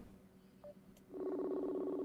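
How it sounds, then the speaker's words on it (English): A phone call is dialed: a faint keypad tone, then a steady ringback tone that starts and holds, near and clear with no talking. "Let me just give Eric another phone call and see what happens."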